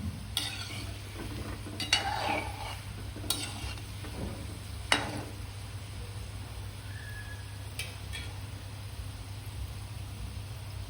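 Jamnagar-style dry kachori, a second batch, frying in hot oil in a home kitchen, giving a steady soft sizzle with a few sharp clicks and taps from time to time over a low constant hum.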